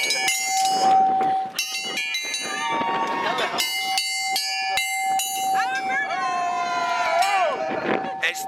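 A loud bell rings at the Burning Man festival in the desert, holding a steady sustained tone for several seconds while voices and other crowd noise carry on over it.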